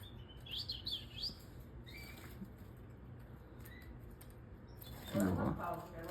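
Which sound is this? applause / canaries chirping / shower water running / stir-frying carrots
canaries chirping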